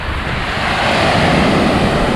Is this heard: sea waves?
yes